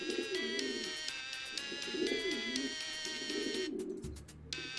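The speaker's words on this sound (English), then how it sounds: "We're gonna send out a second pigeon." A pigeon in the HiveSwap video game coos in repeated rolling, throaty phrases over a constant tonal music bed, fairly close and moderately loud.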